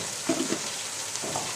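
Chicken karahi fries with ground red chilli powder, a steady close sizzle with a few faint stirring knocks.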